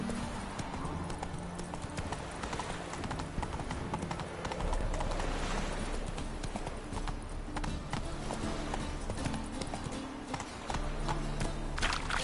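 Galloping hooves of Roach, the horse in The Witcher 3, pound in a fast, unbroken rhythm close up, set against a dense bed of game ambience and music.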